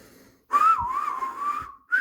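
A voice imitating a steam engine's whistle in a Thomas the Tank Engine story, one sustained wavering hoot lasting over a second, loud and close, with a brief second note starting at the end.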